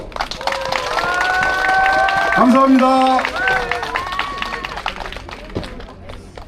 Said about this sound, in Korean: 옆에 옆에 사람들 얼굴 보면서 박수 한번 치시죠